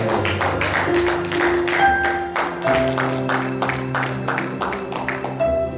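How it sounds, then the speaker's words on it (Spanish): A church congregation applauding, loud sustained clapping in rapid rhythm with music and voices underneath. "¿Cuánto le da un aplauso al Señor por nuestra hermana?"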